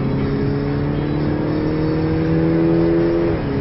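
An Audi RS4 runs at full throttle on the Monza circuit, its engine droning loud and steady as it accelerates, with a rising whine and a brief dip near the end.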